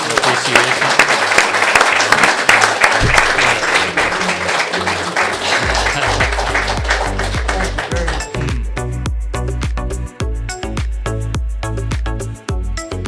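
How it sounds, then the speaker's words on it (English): An audience claps after a talk on mediation and conflict resolution. The dense applause gives way to a stretch of steady rhythmic clapping, loud and close throughout. "I'd ask everybody to give you a round of applause and appreciation"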